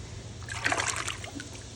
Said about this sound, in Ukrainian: Дощ іде, дощ іде